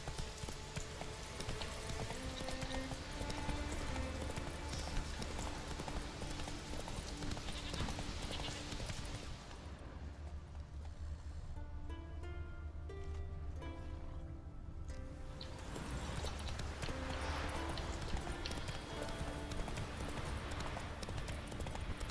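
A horse trots along in The Witcher 3: Wild Hunt, its hooves beating a steady clip-clop throughout, moderately loud beneath game ambience and music.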